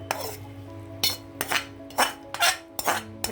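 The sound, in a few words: rice being layered into a pot for cauliflower biryani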